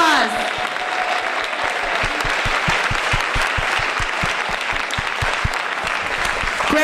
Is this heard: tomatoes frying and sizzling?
no